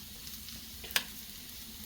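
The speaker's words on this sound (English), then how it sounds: "So you want to caramelize your onions" Onions caramelizing on a hot Blackstone griddle, a soft continuous sizzle with one brief sharp crackle midway.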